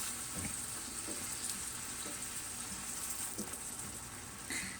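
About two ounces of white wine hits a pan of sizzling shrimp scampi, giving a steady frying hiss with a few knocks and stirring clatters, faint overall, with no voices.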